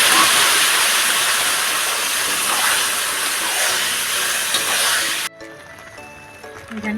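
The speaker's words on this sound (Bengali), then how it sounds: "নেওয়ার পর আমি এটা ঢেলে দিচ্ছি।" Spiced tempering with chilli powder and sugar poured into a mung dal tarka gives a loud, steady hiss of sizzling oil for about five seconds, then cuts off abruptly and leaves a quieter bubbling simmer.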